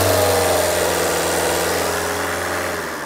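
A Tata Indica car engine runs steadily with a low, even hum and a faint mid-range whine, loud and close with no talk, easing slightly toward the end rather than sharply revving.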